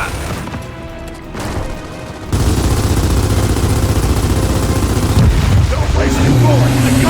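Heavy gunfire in the Gears of War 4 campaign: after a quieter stretch, sustained loud bursts of rifle fire and booming impacts erupt and continue, with explosive crashes near the end.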